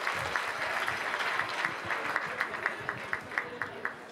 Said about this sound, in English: Clap if you're okay with having Jeanette draw the winner